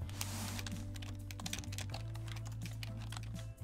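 Rapid, evenly paced keystrokes from a computer keyboard typing text automatically via a macro during Doom gameplay, a dense continuous clatter over a steady low electronic hum, no voices.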